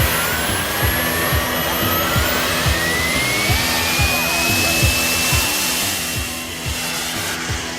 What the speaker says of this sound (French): Ce n'est qu'un skate doté d'un moteur à réaction.